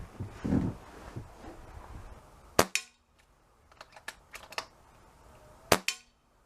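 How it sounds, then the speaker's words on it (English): Two sharp rifle shots fired at a ball target from 15 yards, each a crisp crack a few seconds apart, followed by faint clicks and handling noises in an otherwise quiet setting. "Take 2 shots at the ball as usual and then adjust it from there."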